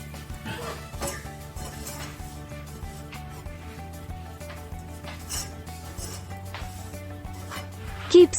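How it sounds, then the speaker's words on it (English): A spoon scrapes and taps in a pan as onions fry with coriander, turmeric and chili powder, soft irregular stirring clinks over faint sizzling, with a louder clatter at the end. "Keep stirring till the raw smell of spices are gone."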